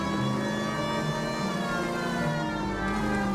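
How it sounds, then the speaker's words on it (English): A police car siren in the video game L.A. Noire wails steadily and loudly for the whole stretch, its layered tone holding over a car engine rumble, no talk. "I'm going to turn the siren off because it's just annoying me"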